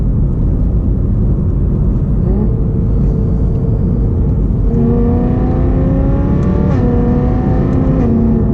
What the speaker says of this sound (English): But as you can hear, I do like the sound of this car.